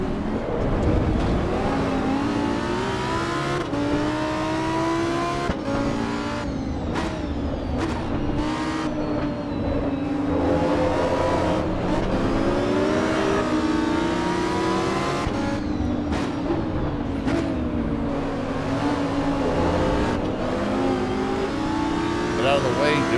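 A car engine in a racing video game revs hard through repeated gear changes, with sharp backfire pops and crackles breaking the sustained roar; a person talks over it throughout.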